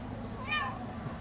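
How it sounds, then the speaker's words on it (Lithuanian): A single short cat meow rises briefly over steady low background noise in a pet shop in Jordan. "Bet vat pažiūrėkit, va čia katinėliai"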